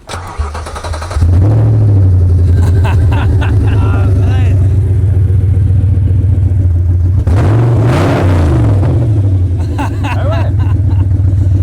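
An Audi RS4 with a missing exhaust gasket cranks and fires, then idles loud and close with a deep rumble. It rises in a couple of revs, while people talk over the engine.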